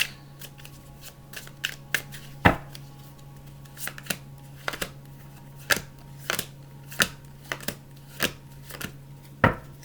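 Oracle cards being shuffled during a tarot-style reading, giving a series of sharp, irregular riffling snaps and flutters against a steady low hum, fairly close and with no talking.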